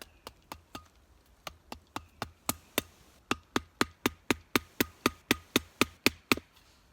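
The back end of a budget survival multi-tool axe hammers in about twenty sharp, close metallic strikes at a steady, quickening rhythm, with a brief pause near the middle.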